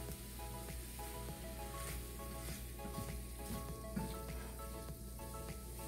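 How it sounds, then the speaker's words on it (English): Ginger and zucchini pasta simmers in a pan over medium heat, giving off a faint, steady sizzle and bubble with a low background hum and no voices. "Now we're gonna cook this on medium heat until all the uh, pasta is heated through and the liquid has been absorbed."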